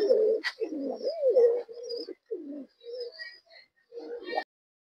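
Pigeons of a teddy breed kept for sale coo in repeated throaty bursts close by, with short pauses between phrases and a faint high chirp mixed in; no one speaks.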